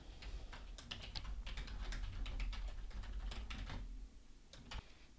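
Fingers type on a computer keyboard in quick irregular bursts of close, crisp key clicks over a low hum, pausing near the end.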